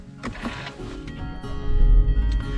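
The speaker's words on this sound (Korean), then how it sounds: "한번 시동을 한번 켜볼게요" An older used Hyundai YF Sonata's engine cranks and catches, and a low rumbling idle builds and grows louder over the last second, close by with no talking.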